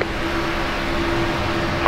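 A steady race car engine drone plays in the NASCAR '15 video game during a race at Texas Motor Speedway, an even held tone throughout with a spotter's radio voice nearby.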